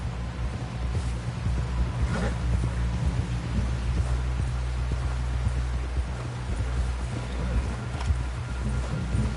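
Horse hooves clopping through rain in the video game Red Dead Redemption 2, steady hoofbeats under a constant wash of rainfall with occasional louder drops.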